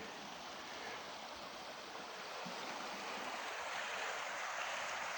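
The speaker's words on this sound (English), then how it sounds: "it's a nice little stream here" A small stream running high with water, a dense, steady rushing and gurgling wash that holds constant throughout, close and fairly loud with nothing else over it.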